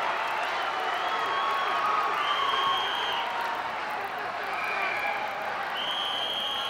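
A wrestling arena crowd at a 1981 championship bout roars and hollers steadily, a dense wash of distant voices with scattered whoops and chants rising at moments.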